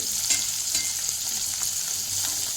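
Garlic sautéing in oil over a high flame, a steady close hiss of frying with faint stirring scrapes throughout, no voices.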